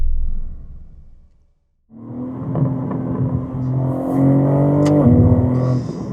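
A sixth-generation BMW M3's turbocharged inline-six, rated at 530 horsepower, fades after a rumble, falls silent briefly, then starts up and builds into a loud, close, steady drone with rising engine tones.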